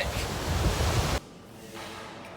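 Waves on the open sea at a seaside resort near Mandavi, Gujarat: a loud, broad rushing wash mixed with wind noise, then abruptly dropping to a quieter, steady surf.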